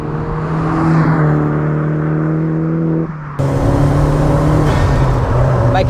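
A 20V turbocharged engine in a MK1 VW Caddy runs loudly and close up, holding a steady droning tone, dropping briefly for a moment, then revving back up with a rougher, fuller roar.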